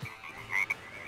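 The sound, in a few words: small frog croaking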